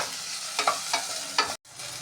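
Onions being stir-fried with a little salt for brinji rice, a steady sizzle broken by several sharp spatula scrapes and stirs against the pan, close and fairly loud, ending in a brief silence.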